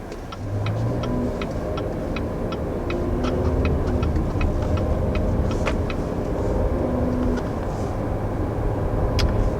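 Inside a 2020 Cadillac XT6 crossover as it drives and picks up speed, a steady engine and road hum builds gently, joined by a regular ticking like a turn signal clicking over it; no one talks.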